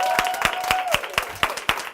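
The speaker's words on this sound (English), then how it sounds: "Y'all give Lisa a huge round of applause." Audience applause at a workshop class, a small group clapping with distinct individual claps in a loose rhythm, close and fairly loud, over a faint tonal sound that fades out partway.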